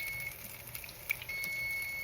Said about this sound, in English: And that timer is for my bacon.